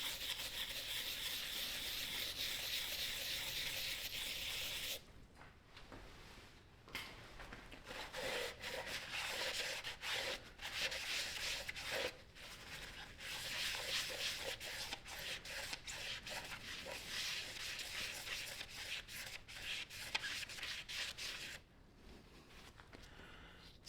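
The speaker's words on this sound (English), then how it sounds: "kind of hit her with a little bit of brake clean up here. See if we can scrub it up for someone to see." Brake cleaner is sprayed on a part from a 4.6L 2V V8 engine during teardown, then the part is scrubbed with a brush in close, rough rubbing strokes broken by short pauses, with no talking.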